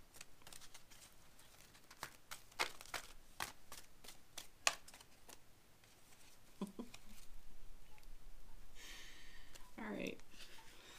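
A deck of cards being shuffled by hand gives quick bursts of crisp riffling and light tapping, close and fairly faint, ending in a longer rustling shuffle.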